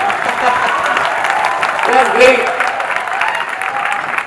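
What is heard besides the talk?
audience applause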